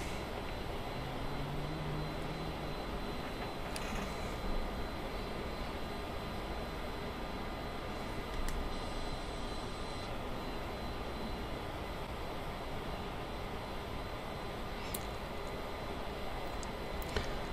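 A light aircraft engine drones steadily in a flight simulator flyover of Tokyo with the throttle at half power, giving an unbroken even hum and broadband rush with no voices.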